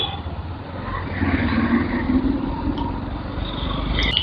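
Evening road traffic in Bhubaneswar, with a steady, dense rumble of car and motorbike engines and tyre noise nearby. Occasional engines rev a little louder as vehicles pass, with no talking.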